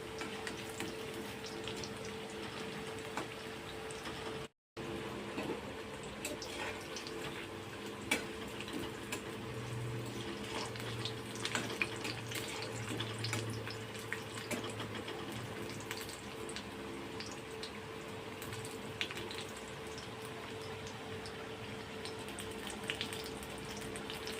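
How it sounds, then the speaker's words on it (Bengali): Chicken cutlets fry slowly in a pan: a steady, soft sizzling hiss runs throughout with faint ticking crackles and one brief dropout near the start, no voices. "সেইগুলোকেও আমি একইভাবে আস্তে আস্তে ভেজে নেব উল্টো পাল্টে"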